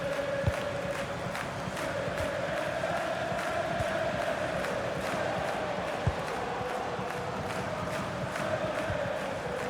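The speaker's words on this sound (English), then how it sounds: "just listen to this crowd" A dense, steady roar of a football stadium crowd from a football management video game, with a sustained chanting drone and occasional louder shouts, continuous and fairly distant.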